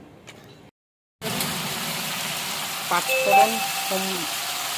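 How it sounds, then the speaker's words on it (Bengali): Pointed gourd, eggplant and potato frying in a pan with panch phoron, a steady close sizzle that starts after a short silence, with a few clinks from the pan and someone speaking in Bengali over it. "পাঁচফোড়ন দিয়েছি, আর পটল, বেগুন, একটু আলু আছে"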